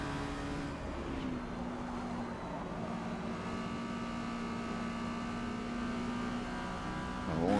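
Video-game race car in Forza Motorsport, B class at Watkins Glen in an Exocet, its engine holding a steady, faint drone that rises in revs at the very end.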